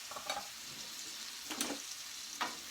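Chopped tomato, minced garlic and purple onion sizzle in a pan over a gas flame, a steady hiss broken by three brief louder bursts of stirring or scraping, close and without talk.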